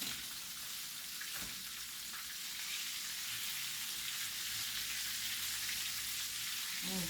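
Chicken frying in hot oil gives a steady, soft sizzle and crackle with a continuous hiss and a few faint clinks, heard alone without any talking.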